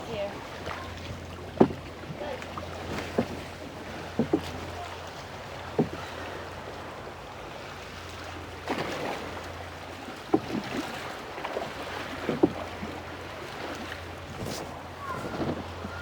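A small boat moves on the water, with steady wind buffeting the microphone and occasional knocks and splashes against the hull.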